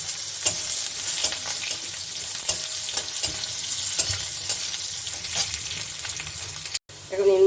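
Potatoes sizzle steadily in hot oil while a spatula scrapes and stirs the pan in repeated strokes, followed by a short pause.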